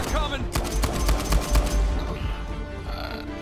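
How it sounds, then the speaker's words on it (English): Repeated weapon blasts and heavy explosive thumps from a grenade launcher in the action game Uncharted 4, loud and dense with rapid overlapping shots, easing into a quieter rumble toward the end. "Oh, I forgot I had a grenade launcher."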